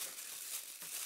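A clear, recyclable plastic bag slides off a RENPHO handheld massager with heat, giving a soft continuous crinkle and rustle up close at low volume.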